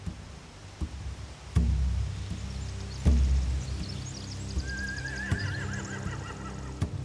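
A horse whinnies in a long rising and falling call near the end of a video game clip, with occasional thuds and hoof knocks earlier.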